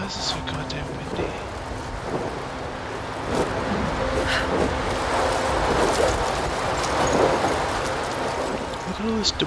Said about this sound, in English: Seriously, why is it so goddamn windy?